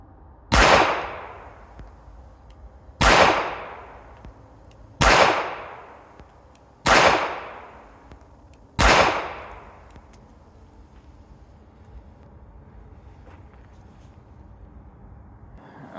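Five sharp pistol shots from a Ruger LCP Max fired at a target, loud and evenly spaced about two seconds apart, each with a short ringing decay, followed by quiet room tone.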